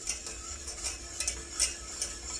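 A whisk or spoon stirs butter cubes into a beurre blanc sauce in a pan, making rhythmic light metallic ticks and scrapes over a faint sizzle.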